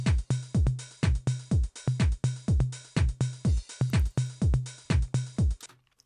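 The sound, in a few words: programmed drum beat with tom in Ableton Live 12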